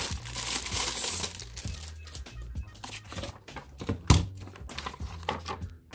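Plastic packaging on a Jelly Comb keyboard case for an iPad Pro 11 crinkles and crackles up close as it is opened, in irregular handling bursts with a sharper tearing rustle near the end.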